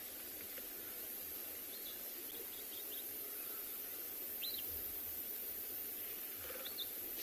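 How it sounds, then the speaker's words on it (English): Redback shrikes and puffbacks give alarm calls at lions on an evening safari: a few faint, scattered chirps far off, set against a steady wash of insect and ambient noise. "You can hear all the birds, the redback shrikes and puffbacks, all kind of alarm calling at them"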